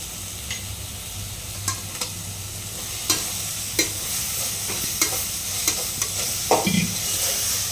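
Gongura leaves with garam masala frying and being stirred in a pan, a constant loud sizzle broken by regular sharp scrapes of the spatula every second or so.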